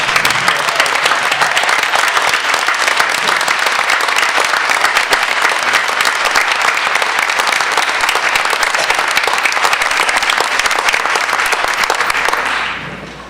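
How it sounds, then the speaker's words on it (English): Audience applause for a student award at a Hoboken Board of Education meeting, loud continuous clapping filling the room at an even level for about twelve seconds, then quickly fading out at the end. "let's give Demaria a big round of applause"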